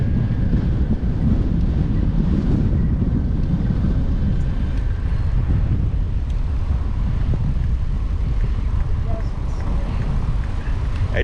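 Strong wind roars into the microphone while riding a bicycle along the Florida Keys near Summerland Key, a continuous heavy rumbling buffet that stays loud throughout.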